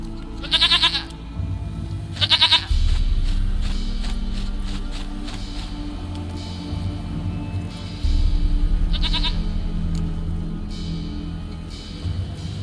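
A goat in The Witcher 3 Next Gen lets out three short, sharp bleats near the start, just after, and again later, over a low game ambience with faint rustles and hoof-like clops.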